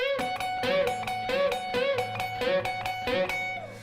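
An electric guitar plays a quick, repeating bluesy riff with bent notes, moderately loud and steady over a backing rhythm.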